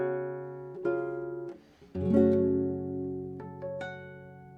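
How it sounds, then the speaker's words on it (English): Fingerstyle acoustic guitar playing a slow phrase from a song, plucked notes ringing and decaying softly, easing into a bell-like artificial harmonic, quiet and close with no voices. "this is an artificial harmonic and is played by lightly touching with the index finger"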